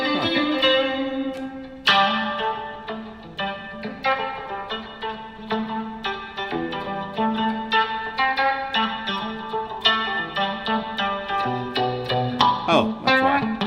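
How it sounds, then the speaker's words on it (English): Guitar played through the reverb of a Meris MercuryX pedal: steady picked notes and chords ringing with a lush, washy tail that blurs each note into the next, fairly quiet and continuous. "That was just reverb."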